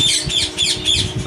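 Birds squawk in a bird breeding setup in Faisalabad, loud harsh calls repeating in four quick bursts close by, with no talk.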